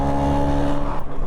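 A 1966 Piaggio Vespa scooter engine while riding, a close, steady buzzing drone that holds evenly and dips briefly near the end.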